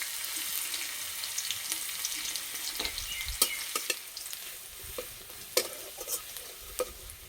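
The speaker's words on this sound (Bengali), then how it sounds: "এবার দেবো থেতো করা রসুন" Crushed garlic frying in mustard oil in a pan, a constant close sizzle broken by intermittent stirring scrapes and sharp spatters, moderately quiet with no voices.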